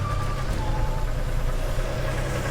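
A neglected Jeep engine with a carburetor and no accelerator pump idles nearby. It gives a steady, low, even rumble throughout.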